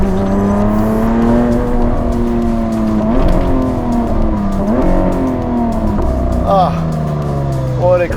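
A Novitec-tuned Ferrari 812 or Lamborghini Aventador SVJ V12 roars loudly from inside the cabin on a Dubai desert road, its engine note holding then dropping and climbing through several quick gear changes, with tyre and road noise underneath.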